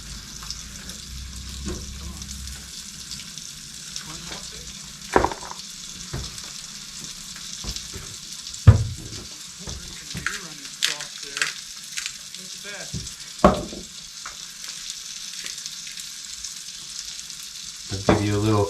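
Eggs, a little larger than quail eggs, fry in a pan on a hot stove at an off-grid cabin, a steady close sizzle running throughout with occasional louder pops and scrapes of stirring.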